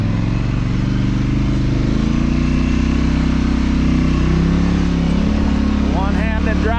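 Vehicle engine in two-wheel drive laboring up slick rock on the Hook & Ladder Trail near Cameo Cliffs, a loud, close, steady low drone that rises in pitch near the end, with talking over it.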